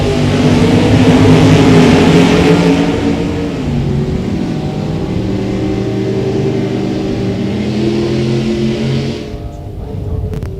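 Two drag race cars, a Chevrolet Nova and a Corvette, launch and accelerate down the strip with a loud sustained engine roar. The roar holds steady, then drops away near the end as the cars pass into the distance.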